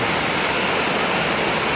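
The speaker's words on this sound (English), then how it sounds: "Well, it's raining hard." Heavy rain pouring outdoors, a steady dense hiss that holds without a break from start to end.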